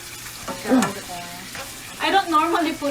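Onions for adobo being stirred into a hot pan, giving a soft sizzle and scraping clatter in short bursts, a louder stir near the start and another stretch toward the end, with no talk.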